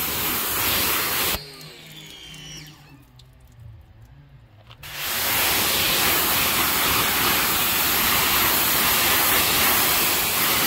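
Deionized water sprays onto the ceramic-coated hull of a 2003 Cape Horn 17OS boat, a loud continuous hiss that stops for a few seconds and then starts again, steady and close.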